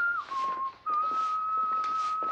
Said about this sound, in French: cette personne qui siffle le thème de Goldfinger